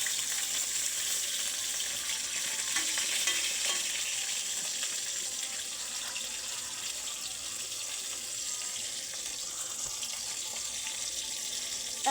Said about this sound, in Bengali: এই যে এখন আমি ভাজবো মাছ।